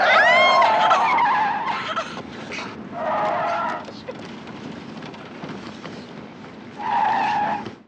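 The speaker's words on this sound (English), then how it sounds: "This car chase is probably the film's most famous scene" Tires squealing in a car chase from Hitchcock's film Family Plot, several loud screeching skids in bursts separated by engine rumble.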